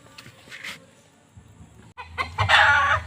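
Clucks and a loud crowing squawk from a gray gamecock being bathed, close to the listener. Quieter handling noise comes first, then the louder call bursts in near the end.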